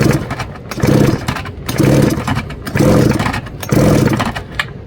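Remington Mighty Mite chainsaw fitted with a Husqvarna 55 coil running after repair, loud and close, surging in four rhythmic revving pulses about a second apart with rough idle between.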